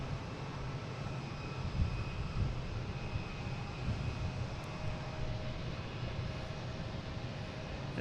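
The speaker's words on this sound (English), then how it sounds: "There's Iberia, the A330." Steady aircraft engine roar from an Iberia Airbus A330-200 arriving at Boston Logan from Madrid, heard as a continuous broad rumble at moderate distance with no talk.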